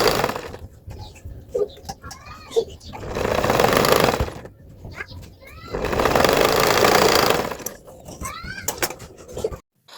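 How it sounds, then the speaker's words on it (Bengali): A sewing machine stitching a round neckline on a garment runs in two sustained whirring bursts, with short pauses and someone talking between them. "আমি এখানে গলাটা সেলাই করে নিচ্ছি"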